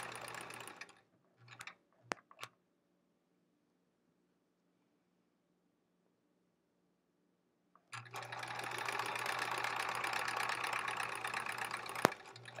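A sewing machine stitches quilt fabric strips in quick bursts, first a few short runs, then a long steady whirring stretch after a quiet pause, close up and alone.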